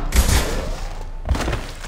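Gunfire in the Mass Effect 2 video game during a combat mission, dense overlapping shots and thuds in two bursts, loud and close, mixed with game ambience and no clear talk.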